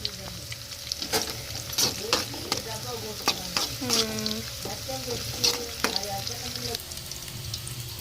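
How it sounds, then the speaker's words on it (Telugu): Onions and green chillies frying in a pan give a close, steady sizzle, broken by repeated sharp stirring clatters; faint background voices drift in and out. "ఉల్లిపాయ పచ్చిమిర్చి అయితే బాగా ఫ్రై అవుతూ ఉన్నాయి కదా"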